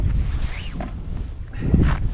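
Wind gusts buffet an outdoor microphone in uneven, rumbling bursts, loud and close, swelling strongest near the end, with no talk.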